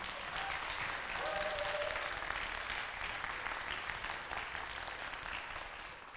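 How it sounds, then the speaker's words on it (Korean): An audience at a Korean poetry talk and traditional music performance applauds the poet Jeong Ho-seung, with sustained, moderately distant clapping from a full hall lasting several seconds. "첫 시간 이야기 손님으로 함께 해주신 정호승 시인께 감사의 박수 부탁드립니다."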